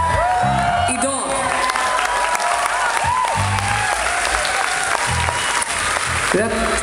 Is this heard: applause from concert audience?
yes